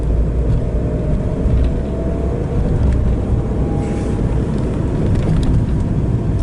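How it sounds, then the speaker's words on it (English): A lorry moves slowly along a narrow town street, giving off a deep, steady engine rumble close at hand that carries on without a break. No one is talking. "These towns were not designed for lorries like that."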